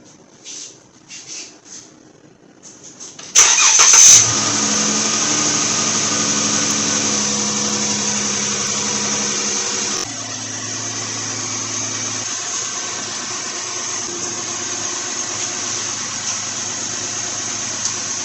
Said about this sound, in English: I just want to start up the car and make sure I got a little bit of heat coming